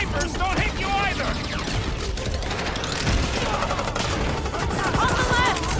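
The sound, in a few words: sniper gunfire in the video game Guardians of the Galaxy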